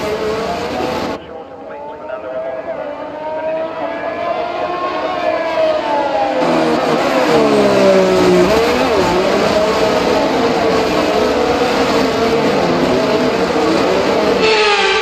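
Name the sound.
F1 cars driving the formation lap in video game F1 23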